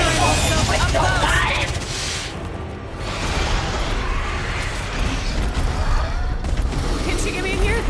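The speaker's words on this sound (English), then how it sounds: "Maybe I shouldn't be using the sniper rifle so up close." Video game gunfire from a sniper rifle at close range, mixed with dense booms, mechanical clatter and other combat noise throughout, loud and continuous.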